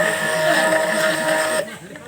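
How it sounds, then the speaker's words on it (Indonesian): A hand blender whirs with a steady high motor whine while mixing aloe vera liquid shampoo, then drops off after about a second and a half. "sekarang pakai hand blender"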